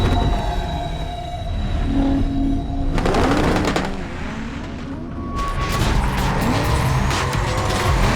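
A race car in Need for Speed: Carbon roars steadily as it accelerates, loud engine drone with rising whine and gear-shift surges, joined by rushing wind and road noise throughout.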